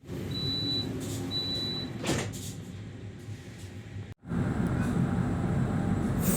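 Inside the Jayabaya passenger train on its Pasar Senen to Malang run, the car rumbles steadily as it departs, with two short high whistle-like tones early on, a sliding door or coupling thump, then a louder continuous running roar.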